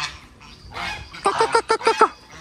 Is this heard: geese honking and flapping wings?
yes